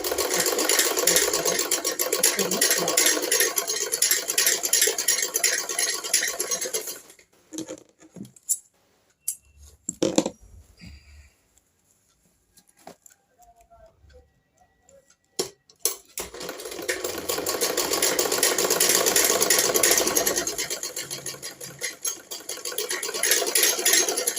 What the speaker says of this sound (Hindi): अब हमने यहाँ से किनारे पे सिलाई लगानी है